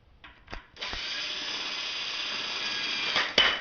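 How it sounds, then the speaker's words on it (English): A power drill spins 6mm Allen screws into a Blackburn Ultra bike trainer, with a couple of short bursts followed by one steady, close whir lasting about three seconds before it stops with a final clack. "to make it faster, once again, I actually use a drill"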